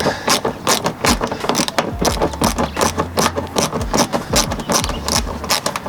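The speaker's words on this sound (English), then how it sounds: "I just swapped over to this small little tool, which just allows me to get in at a bit of a better angle, and it ratchets it." A small ratcheting tool works on a headlight clip of a Navara D40 King Cab, making rapid, loud clicking bursts in an uneven rhythm close to the microphone, with a low hum underneath.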